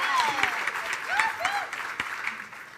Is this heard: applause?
yes